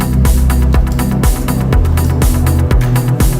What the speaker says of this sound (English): legendary pad, for me at least, is the Anjuna pad.